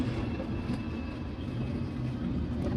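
A train rumbles along steadily from inside a carriage on a trip toward London Bridge. The low rolling noise and faint whine hold constant for the whole stretch, with no talking.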